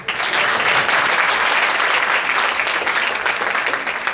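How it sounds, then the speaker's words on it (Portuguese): An evening audience at an event applauds loudly and steadily, dense close clapping from a large crowd filling the whole moment without a break. "eu queria pedir mais uma série de palmas aqui para o Jairo"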